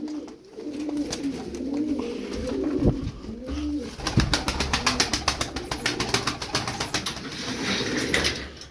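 Turkish tumbler pigeons cooing in soft, repeated rolling calls, fairly close, with rustling and faint clicking in the background.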